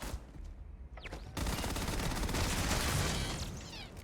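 An automated turret fires a rapid, sustained burst of gunfire in the Starfield video game, loud and dense, with sharp whooshing shots over the first second before the continuous fusillade, no talking.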